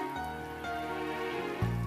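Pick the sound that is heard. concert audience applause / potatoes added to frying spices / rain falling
rain falling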